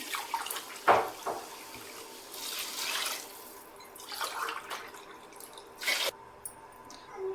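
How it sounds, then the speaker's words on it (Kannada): Water splashes and trickles in short bursts with pauses between as five glasses are poured into a pot for cooking rice, fairly quiet and close; no voices. "5 ಗ್ಲಾಸ್ ನೀರು ಹಾಕ್ತಿದ್ದೀನಿ"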